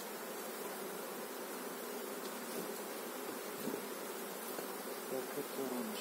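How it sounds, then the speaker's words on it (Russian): Many young bees flying in at a hive of local bees in an apiary: a dense, continuous buzzing hum from numerous insects, close and steady throughout with no talking. "Пчелы вот много прилетает"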